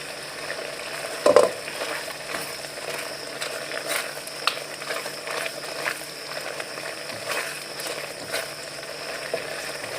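Chicken browning in a pan for restaurant-style Patiala chicken, a steady broadband sizzle running throughout with a sharper clatter near the start and scattered light scrapes.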